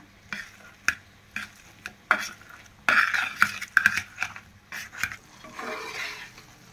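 A metal utensil mashes and stirs spiced masala in a cooking pot, with repeated sharp clinks and scrapes in an uneven rhythm, close and clear with no talking.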